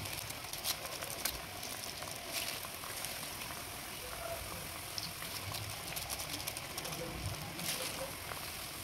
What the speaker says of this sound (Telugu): వడలు ఆయిల్లో వేసిన వెంటనే కదపకుండా 1 నిమిషం పాటు వదిలేస్తే దానంతట అదే పైకి వచ్చేస్తాయి.